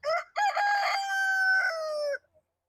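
A rooster among Leghorn and gold-laced Wyandotte cross chickens crows loudly and close by, one long drawn-out cock-a-doodle-doo with a brief clipped start and nobody speaking.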